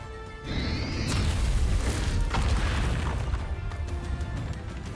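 Confringo fire-blast spell in Hogwarts Legacy: a sudden rising whoosh then a loud booming burst that rumbles and crackles for several seconds, close and alone.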